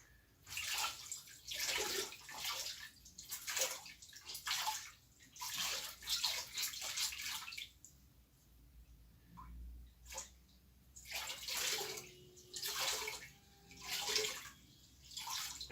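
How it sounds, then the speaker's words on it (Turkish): An aquarium filter being washed and rubbed in a container of aquarium water, giving bursts of sloshing and splashing with short pauses between them, close and moderately quiet, with no voices. "Filtremizi güzelce suyun içinde"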